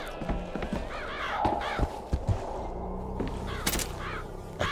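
Crow caws in Bioshock Infinite, several harsh calls scattered over steady game ambience with footstep-like thuds and clatter, moderately close.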